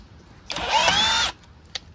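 A SCANS 20V brushless cordless impact drill runs for under a second to back out a screw, a loud, steady high-pitched whine with a slight rising pitch, then stops, followed by a faint click.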